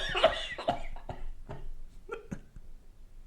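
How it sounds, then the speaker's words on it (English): Someone coughs up close: several harsh, rough bursts in quick succession, fading into softer breathy sounds. "I'll record your cough"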